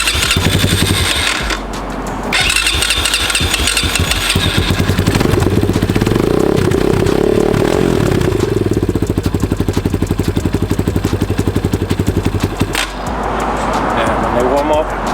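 A dirt bike engine starts and warms up close by, sputtering and then settling into a loud, rapid idle that revs and drops, with people talking over it.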